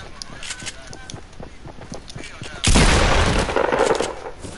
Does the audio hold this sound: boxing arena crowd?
no